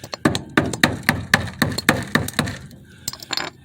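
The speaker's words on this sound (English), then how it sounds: "These spots you're just gonna wanna tap with the hammer." A hammer taps repeatedly on rusty spots of a car's metal body, about a dozen sharp, close metallic knocks in an uneven rhythm with brief pauses between them.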